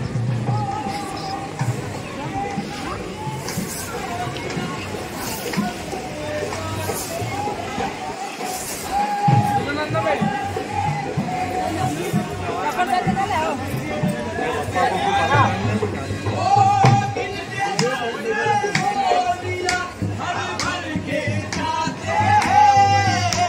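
Morning crowd at a busy boat riding spot: a steady, dense murmur of many overlapping voices with occasional louder calls, holding at an even level throughout.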